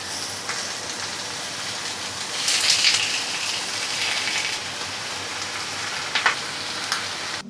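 Steady rain falling outside a home, a continuous hiss with a few louder patters and drips, no voices.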